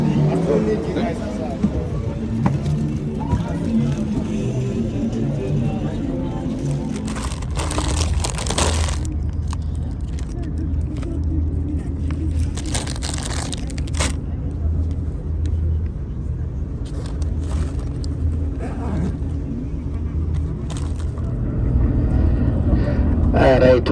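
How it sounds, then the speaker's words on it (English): A bus drives through Midrand, South Africa, heard from inside as a steady low engine rumble and road noise with occasional bumps and rattles, loudest toward the end. "I'm now going back in the bus."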